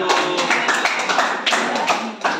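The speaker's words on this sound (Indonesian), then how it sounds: "tepuk tangan untuk kelompok 1" Classroom students clap for a presenting group, a short run of brisk, somewhat uneven claps from a small nearby group.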